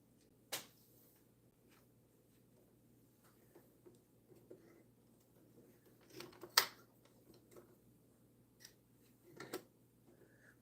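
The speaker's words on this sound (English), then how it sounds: "I'm cutting my thread too short." Scissors snip sewing thread beside a sewing machine in a quiet room, giving a few faint, sharp isolated clicks with long pauses between them.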